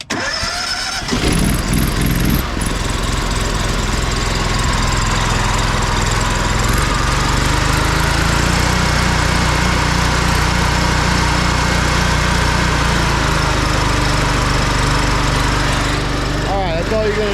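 A gas pressure washer rated at 10.6 gallons per minute roars to life after a brief pause, then holds a loud, steady drone at three-quarter speed while blasting algae off a paver driveway.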